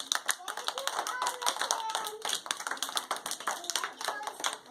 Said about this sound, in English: I want you to give Allison a clap.